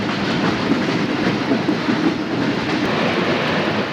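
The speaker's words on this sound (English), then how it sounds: "Then we're going to ride a commuter train to Hoboken." An Erie Lackawanna commuter train rumbles steadily along the rails near Newark, a continuous broad roar with faint rhythmic clatter from the wheels, close and loud with no voices.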